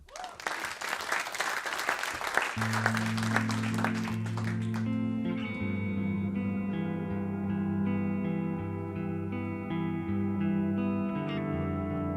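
A Frisian studio audience on a television music show breaks into loud applause that dies away after a few seconds as sustained instrumental music with reverb and chorus effects takes over.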